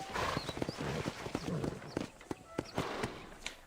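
Horse hooves clip-clopping in the video game Red Dead Redemption, a run of uneven close thuds with background game ambience and no speech.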